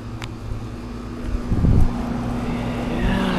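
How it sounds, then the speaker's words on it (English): A 2004 Heil packaged heat pump runs outdoors with a steady low hum and constant tonal drone, a louder rush swelling briefly mid-way over windy background. "Yeah, this is a heat pump."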